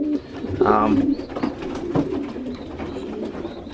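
Young pigeons coo steadily in low, throaty rolls nearby, with a person talking over them.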